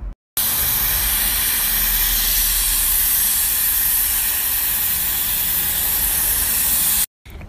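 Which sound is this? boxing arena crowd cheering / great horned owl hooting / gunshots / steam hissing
steam hissing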